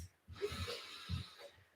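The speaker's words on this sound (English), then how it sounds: "Exhaling through the mouth." A soft breath pushed out through the mouth during a relaxed yoga-style rocking exercise, a faint, airy exhale with a slight snort-like edge, quiet and close.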